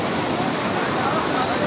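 Floodwater surges past on a flooded road, a steady, loud, broadband rushing that continues without pause for the whole stretch.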